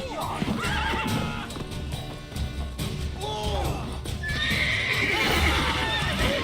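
Horses in The Witcher 3 give a loud neigh and whinny with clip-clopping hooves, over a dense game soundscape with voices and music.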